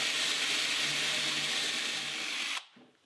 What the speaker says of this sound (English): Next, I'll drill 3/8 inch holes for carriage bolts.